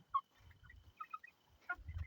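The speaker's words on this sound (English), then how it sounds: "I think one of the chickens is trying to crow." A young backyard chicken attempts to crow, producing short, cracked, squeaky calls in a couple of bursts, fairly faint and outdoors with low background noise.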